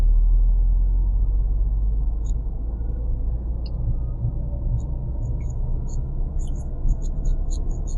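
A car engine runs at a low, even rumble after a shift into second gear during a driving test, droning steadily throughout with faint light clicks near the end.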